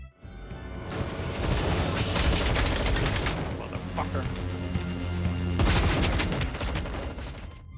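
Gunfire in a mafia film scene: bursts of rapid shots and booms fill most of the stretch, loud and dense, mixed with a film soundtrack and crashing effects.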